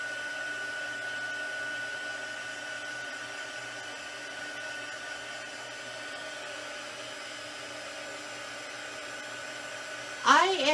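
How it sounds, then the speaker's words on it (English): A heat embossing tool blows hot air in a continuous, even whir, close and steady for the whole stretch, with a brief louder burst at the very end. "I love to heat emboss."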